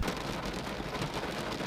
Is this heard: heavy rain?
yes